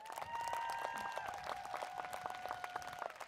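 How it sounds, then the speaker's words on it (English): Audience applause at a 2023 Riverside County Office of Education alternative education graduation ceremony, moderate clapping under a sustained tonal hum, fairly distant and even. "please join me with a round of applause"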